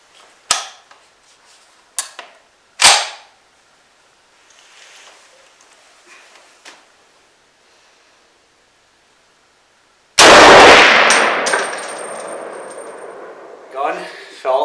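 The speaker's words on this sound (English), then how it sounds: "First shots with this gun. I'm going to just do one for the first shot." A single loud shot from a Browning BAR MK3 Stalker semi-automatic rifle chambered in 300 WSM booms outdoors and decays over a couple of seconds, preceded by a few small clicks and handling sounds.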